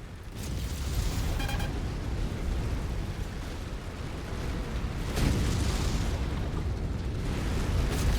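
A giant mech blowing apart in the MechWarrior 5 video game, heard as a loud, sustained rumbling blast that swells in two waves, with a fresh burst about halfway through, alone without talk.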